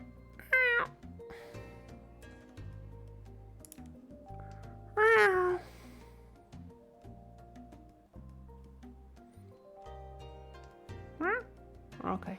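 A voice mimics a cat with a few short, close, high meows scattered between quiet stretches over soft background music, with a bit of talking around them.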